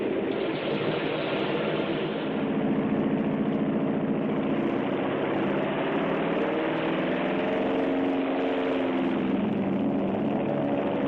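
Several World War II carrier aircraft engines run up together on deck, a loud steady droning roar with a wavering propeller whine that swells slightly and holds for the whole stretch, with no talk over it.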